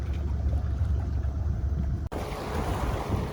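A sailboat under sail on the open sea off Jamaica's north coast, with strong wind buffeting the microphone and water rushing along the hull, a loud continuous roar broken by one brief cut, without speech.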